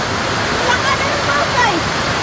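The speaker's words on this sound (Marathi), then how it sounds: "पाऊस आहे का बघ जोरदार आहे" Heavy afternoon rain pours down as a loud, unbroken rushing roar that fills the whole stretch, with voices faintly mixed under it.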